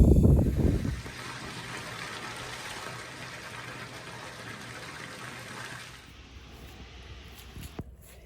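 Dirty water pouring and splashing out of a container used for tanning a sheepskin hide on a homestead, a loud gush at first settling into a steady trickling stream for several seconds, then fading near the end.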